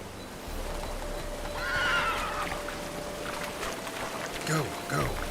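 Roach, the horse in the video game Witcher 3, neighs loudly in a drawn-out whinny, with faint hoof clip-clop, a steady low game ambience and a brief second snort near the end.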